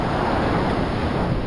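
Sea waves surge in a continuous, broadband wash with a steady roar and some wind noise across the microphone, with no voices.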